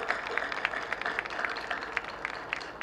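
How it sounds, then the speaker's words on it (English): Audience applause at a Celebration of Life memorial service, a steady wash of many hands clapping at moderate, slightly distant level, with sharper individual claps standing out throughout. "Let us give Bishop Manogue a round of applause at this time"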